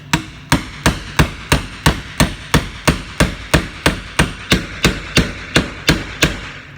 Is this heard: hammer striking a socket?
yes